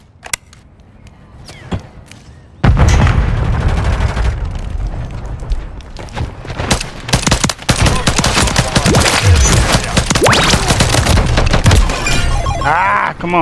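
Gunshots in the video game Call of Duty MW3 erupt after a few sparse early shots into loud, dense rapid fire with crashing impacts, and a voice talks over the shooting.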